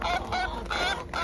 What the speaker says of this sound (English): Chickens and their filthy selves.